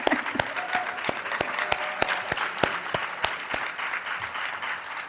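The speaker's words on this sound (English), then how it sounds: "Let's give Mary a hand clap." Audience applause for an honoree at a community panel event, a crowd's steady clapping with one nearby pair of hands striking sharp, evenly spaced claps above the softer background patter.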